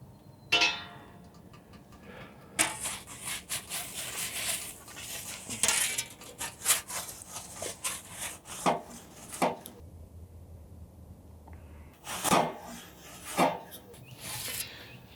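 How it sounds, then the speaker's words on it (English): A pizza peel scrapes and knocks against the cooking grate of a drum smoker as a pizza is turned, giving a series of close, uneven scraping and clattering bursts with short pauses between them. "We're going to flip it around here with the pizza peel so it doesn't get overdone on one side and underdone on the other."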